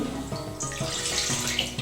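Water pours steadily into a kadai on a gas stove, a close, continuous splashing gurgle lasting a couple of seconds.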